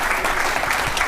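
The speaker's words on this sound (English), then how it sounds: "Golf clap" A brief golf clap, a soft, dense patter of scattered hands lasting about a second, with no other sounds.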